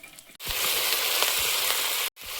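Onion and slit green chilies hitting hot oil with garlic in a pan, a sudden loud sizzle that holds steady for nearly two seconds, with faint stirring scrapes, then cuts out briefly before resuming.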